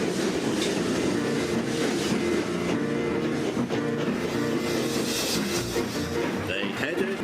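A Trainz video game engine, James, pulling out with a train of presents: continuous rumbling wheels and clattering rail noise, steady and close, with a voice narrating over it.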